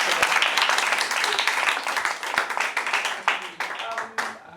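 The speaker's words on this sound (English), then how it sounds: "Please give me a applause." An audience claps after an intraschool debate at Highscope School in Ojodu, Lagos, loud at first and then thinning into scattered individual claps.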